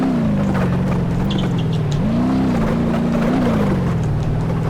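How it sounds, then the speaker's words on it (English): V8 engine of the Grand Marshal police car in BeamNG Drive, a loud, steady low drone that rises in pitch as it speeds up, continuous and alone for the whole stretch. "But once it gets going fast, it's got a V8 engine. It goes pretty quick."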